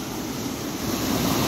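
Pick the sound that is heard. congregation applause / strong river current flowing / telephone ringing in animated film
strong river current flowing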